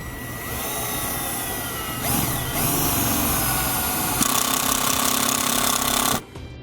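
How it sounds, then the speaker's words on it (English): A self-tapping screw is driven into a start hole by a power driver for a Roadmaster InvisiBrake flat tow brake install. The motor whines steadily and shifts pitch twice under load, then stops abruptly. "we're going to use the self-tapping screw to get our hole started on these first 2"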